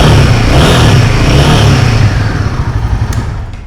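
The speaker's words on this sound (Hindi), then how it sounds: "सबसे पहले मैं आपको एग्जॉस्ट नोट सुना ही देता हूं।" A Royal Enfield Himalayan 450 motorcycle revs hard close by, its exhaust note loud and continuous, then easing slightly toward the end with no voices over it.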